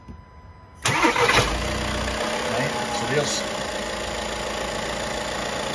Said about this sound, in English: You can actually hear the tone change on the engine anyway.